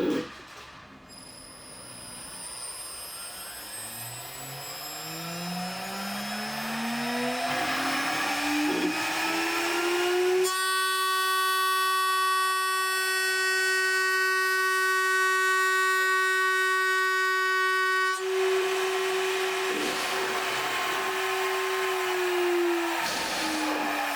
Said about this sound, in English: not so efficient at shoulder milling since it only has one cutting flute. But here's the test anyways.